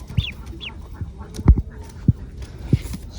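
Newly bought ducklings brought home to a village give a couple of high, thin peeps early on, followed by soft low thumps and handling noises; no voices.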